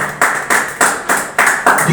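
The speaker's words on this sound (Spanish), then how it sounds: "Démele un aplauso a Cristo Jesús" A church congregation claps in rhythmic unison during a service, with about seven loud, evenly spaced strong beats close by and a crowd murmur underneath.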